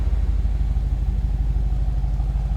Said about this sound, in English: Nice throaty exhaust note.